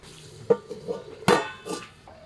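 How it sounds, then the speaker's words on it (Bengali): A metal plate set over a wok of mutton and potato curry, with a sharp clank followed by several lighter metallic knocks and scrapes, close and distinct. "এই কড়াইয়ে তো ঢাকনা নাই আর এমন থালা দিয়ে ঢাকলাম"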